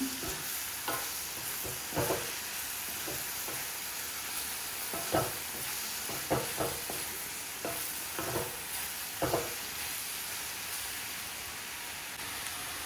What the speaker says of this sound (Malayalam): ഇനി ഇതിലേക്ക് കഴുകി വൃത്തിയാക്കിയ ഉണക്ക ചെമ്മീൻ നമുക്ക് ഇതിലേക്ക് ആഡ് ചെയ്ത് കൊടുക്കാം എന്നിട്ട് നന്നായിട്ട് മിക്സ് ചെയ്ത് കൊടുക്കണം